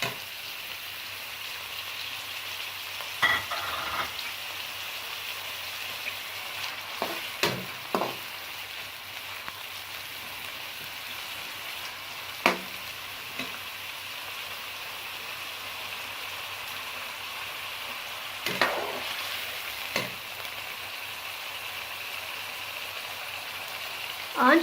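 Onions frying in a pan for a zucchini (tori) curry, a steady soft sizzle with occasional louder clinks and scrapes of stirring, close and continuous with no talk.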